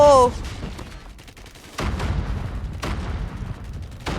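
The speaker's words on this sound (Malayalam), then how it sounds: "ഞാൻ എനിമിയാന്ന് പറഞ്ഞ ടീംമേറ്റിനൊക്കെ വെടി വയ്ക്കുന്നു" Loud gunfire in a shooting video game on the Shipment map: a burst of shots, then sharp single bangs and rapid volleys recurring every second or so.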